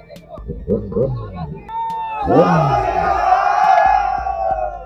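At a cafe opening packed with bikers, a crowd breaks into loud cheering and whooping after a few spoken words, a sustained roar of many voices close by that holds for several seconds.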